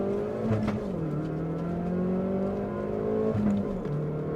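A Hyundai i30N fitted with a piggyback ECU launches hard with traction control off, its engine roaring up in pitch, easing at each gear change, then climbing again, loud and close throughout.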